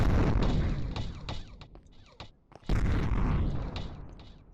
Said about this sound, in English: Let's fire a cannon at him.